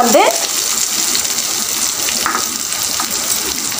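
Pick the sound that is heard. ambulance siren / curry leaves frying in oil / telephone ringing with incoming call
curry leaves frying in oil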